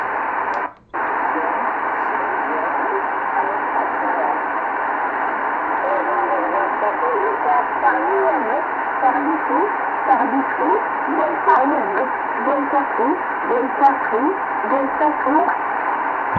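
Shortwave radio receiving single-sideband voice chatter on the 160-meter band around 1850 kHz lower sideband, played on a Grundig G5 with a loop antenna; steady band-limited hiss with garbled, warbling voices throughout, after a brief dropout near the start.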